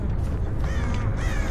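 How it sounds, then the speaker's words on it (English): Raven cawing in the horror video game Dead by Daylight, a couple of hoarse caws over a steady low rumble of game ambience, moderately loud. "Right, Raven's just gone off."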